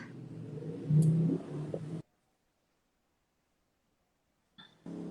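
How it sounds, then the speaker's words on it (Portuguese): A motorcycle passes very close on a street, a loud engine rumble and rev for about two seconds that cuts off abruptly, then silence before a brief noise returns at the end. "Passou uma moto muito perto."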